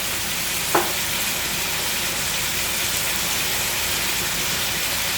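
Seasoned beef sizzles in a pan, giving a constant, even frying hiss close by, with a single brief clink of a utensil near the start and no speech.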